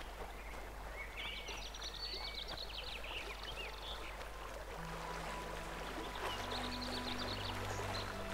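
Water flows in the Witcher 2 game world as a continuous, soft rushing stream, with faint bird calls chirping above it and a low steady hum beneath.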